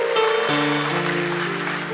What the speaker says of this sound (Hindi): तालियां बजाओ यार, इसको बोलते जीत।